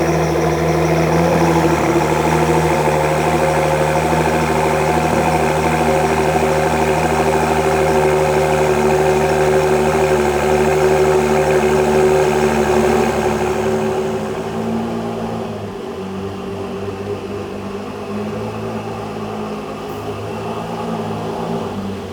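A Ford GT fitted with a QuickSilver exhaust fires up from cold and idles loudly and steadily close by, the rough rumble easing and dropping in volume partway through.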